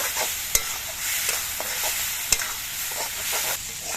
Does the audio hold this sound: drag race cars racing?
no